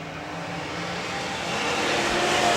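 IMCA modified race cars roar around Crystal Motor Speedway in a 2000 feature race, a continuous engine drone that swells louder toward the end as the pack nears, with no talk.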